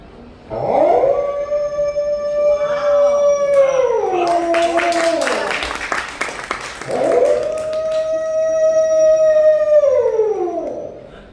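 A stand-up comedian imitates wolves howling at night, voicing two long, loud, sustained howls that rise, hold and fall, with a burst of audience noise between them.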